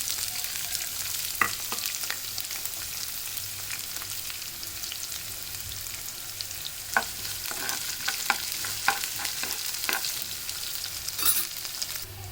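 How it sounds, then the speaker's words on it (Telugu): Chillies and onions frying in a pan for an aloo fry, a steady close sizzle with scattered crackles and pops throughout and no voices. "అవి కొంచెం ఫ్రై అయ్యాక మిర్చి అలానే ఆనియన్స్ వేస్తున్నాను"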